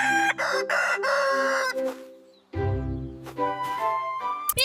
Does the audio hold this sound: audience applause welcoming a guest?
no